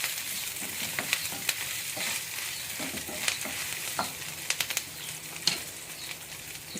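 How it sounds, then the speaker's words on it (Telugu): Ginger paste fries in a pan, a soft, steady sizzle punctuated by several sharp spatula taps and scrapes, with no talking. "ఇప్పుడు మనము ఈ అల్లం పేస్ట్ కూడా వేద్దాము."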